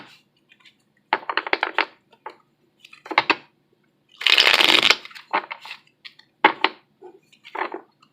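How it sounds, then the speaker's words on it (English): Tarot cards are shuffled in several short riffling bursts separated by pauses. One longer, louder shuffle sits in the middle, all close by with no voices. "Okay, one more shuffle."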